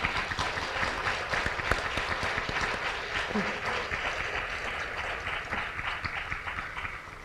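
Sustained audience applause at a community gathering, a steady wash of many hands clapping at moderate distance, fading slightly toward the end.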